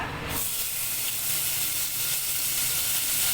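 Onion frying in hot oil for a wet cashew curry, a continuous close sizzle and hiss that starts sharply as the onion hits the pan and holds steady, with no talk over it.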